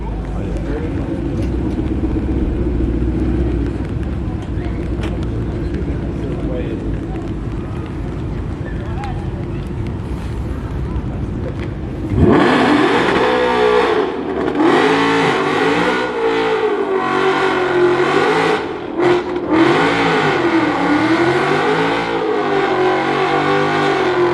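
A truck doing a burnout at an American muscle car show: a steady engine drone, then a sudden loud surge into harsh, wavering revving that rises and falls over a noisy crowd.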